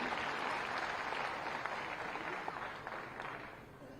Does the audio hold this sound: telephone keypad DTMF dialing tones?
no